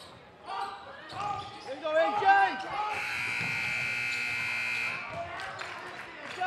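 At a high school boys' basketball game between Valley and Morgan, the end-of-first-half buzzer sounds as a loud, steady drone for about two seconds, after ball bounces and crowd noise with a commentator talking.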